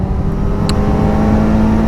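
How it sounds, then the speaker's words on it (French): A four-cylinder sport motorcycle exhaust, a Kawasaki ZX-4RR or Ducati Streetfighter V4S on a ride with friends, droning loud and close with a steady high-revving engine tone and a brief crackle midway. "on a un bruit d'échappement de 4 cylindres les gars, avec des retours de shifter"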